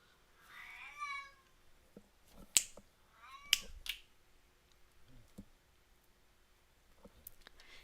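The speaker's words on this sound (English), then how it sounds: "He does this ugly meow." A house cat lets out a harsh, strained meow, two rough drawn-out yowls close by, separated by sharp clicks and snaps, then quieter scattered clicks.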